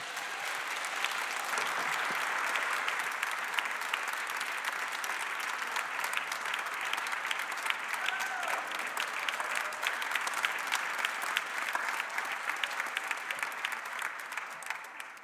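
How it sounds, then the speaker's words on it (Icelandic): Audience applause in a church advent concert setting for a singer, a steady, full clapping crowd sustained throughout, fairly even in loudness and tapering slightly at the end. "En gefið henni gott klapp"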